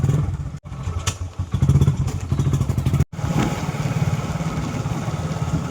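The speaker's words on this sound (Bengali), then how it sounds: "আর এখন বাইকে যাচ্ছি" Motorbike running through rain, a low chugging engine with clattering and rumbling throughout, broken by two brief dropouts, the engine close and fairly loud with no voices.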